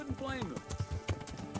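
Horse hooves clip-clop in a steady rhythm in Kingdom Come: Deliverance, with a whinny near the start and game voices talking over the hoofbeats.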